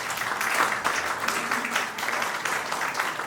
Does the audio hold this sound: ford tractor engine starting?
no